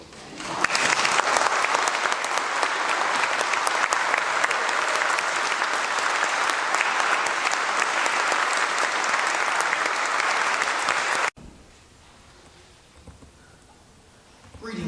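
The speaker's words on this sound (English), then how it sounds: "Applause is appropriate." Dense, loud applause fills a doctoral degree ceremony hall for about eleven seconds, then cuts off sharply, leaving quiet room tone with a faint stir at the end.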